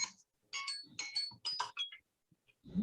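Mobile phone ringtone going off during an online think tank meeting, a short repeating electronic melody of bright tones heard between bursts, fairly faint and close to the microphone, with a low thump at the end.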